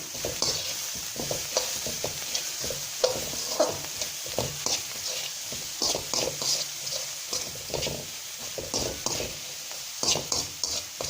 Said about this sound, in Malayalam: ഇനി നമുക്ക് ഉപ്പ് കൂടിയിട്ട് ചിക്കി കൊടുക്കാം